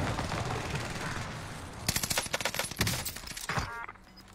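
Rapid automatic gunfire with heavy recoil in a video game, a dense burst of sharp shots in the second half over a constant noisy game bed, ending abruptly.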